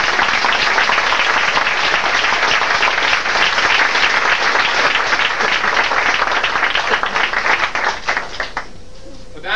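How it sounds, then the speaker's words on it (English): Audience applause at a farewell dessert potluck, a loud, steady round of clapping from a room of people that holds for about nine seconds, then thins out and stops near the end. "I'd just like to give him a big round of applause."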